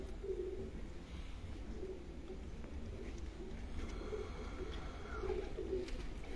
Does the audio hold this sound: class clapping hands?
no